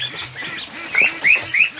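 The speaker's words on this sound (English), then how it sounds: "we'll go inside and we'll take a look at the ducks here." Young ducklings in an indoor pen give a run of soft, rapid peeps and chirps close by, with a few louder, higher calls standing out near the end.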